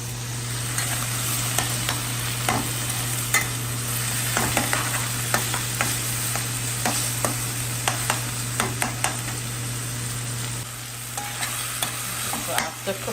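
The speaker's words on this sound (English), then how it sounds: "All of my condiments are sauteing here to soften up and get nice and translucent." Chopped condiments softening in a hot pan, a continuous close sizzle and fry with repeated stirring scrapes and clicks throughout, over a steady background hum.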